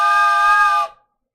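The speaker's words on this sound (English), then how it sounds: "my train whistle." One loud, steady blast from a handheld train whistle, a shrill tone with bright harmonics that holds for almost a second and then cuts off abruptly.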